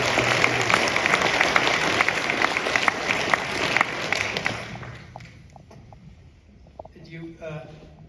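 Audience applause at a live cast and crew Q&A for The Texas Chain Saw Massacre at MoMA, a dense round of clapping for about five seconds that fades out, followed by faint talk and small sounds.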